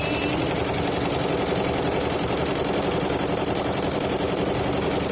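A 22-head embroidery machine running, a loud, steady mechanical drone with a rapid chattering pulse and high whine, constant and close with no pauses or speech.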